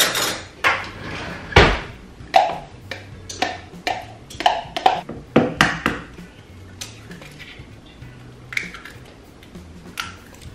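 Olive oil scraped out of a measuring cup with a spoon, a string of sharp clinks and scrapes of metal against the cup, close and irregular, thinning into lighter taps toward the end.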